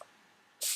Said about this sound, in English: we'll spray myself with some Fix Plus on right here